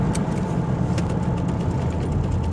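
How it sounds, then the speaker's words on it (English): A UPS delivery truck's engine runs at close range, a steady mid-pitched rumble with continuous low-end drone, loud and unbroken without voices. "I'm chasing down the Ups man in the truck"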